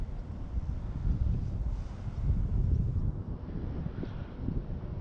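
Wind blowing outdoors around a small Tello drone flight, a steady low rumbling buffet against the microphone, fairly loud and continuous with no voices.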